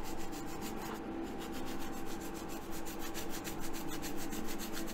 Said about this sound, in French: Voilà, oui, bien poncer les bords.